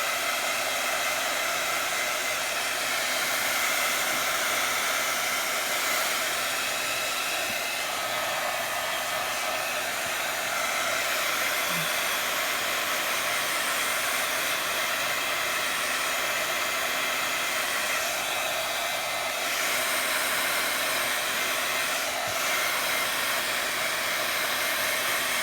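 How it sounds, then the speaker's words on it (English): A handheld heat tool blows steadily to dry paint on a faux brick distress finish, a constant loud airy whoosh with an even motor hum that holds unchanged throughout. "We're gonna come in with our heat tool"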